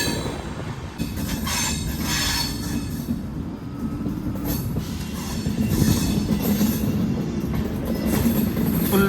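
Yeshwanthpur–Puri weekly express train pulling into Guntur Junction, a steady loud rumble of rolling coaches with intermittent wheel squeal and clatter throughout, no voices.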